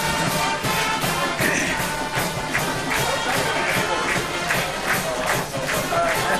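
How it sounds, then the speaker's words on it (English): Large crowd filling a high school football stadium on a game night, a dense continuous roar of many voices and chatter, steady and loud throughout with faint cheering mixed in. "looks like we got a pretty good crowd tonight"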